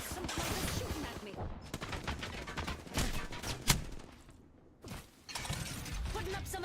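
Gunfire in the shooter game Apex Legends: loud, rapid bursts of shots and crackling impacts, then a short lull, then more firing, with ringing metallic clatter mixed in.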